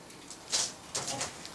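Soft calls between a young crow and another caged bird trade back and forth in two short bursts, close by and fairly quiet, with a brief pause between them.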